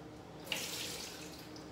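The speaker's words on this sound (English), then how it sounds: "Gotta rinse them out with water from the faucet." A kitchen faucet runs quietly with a soft, steady wash of water as grapes are rinsed under it, without talking.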